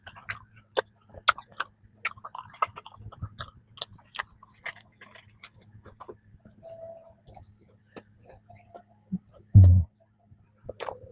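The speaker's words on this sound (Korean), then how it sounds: "열이 살아있어서 씹는 소리가 너무 좋네." Chewing a strawberry danish pastry with a flaky, buttery crust: scattered crisp crunches and small clicks up close, ending in one louder bite, with no talk.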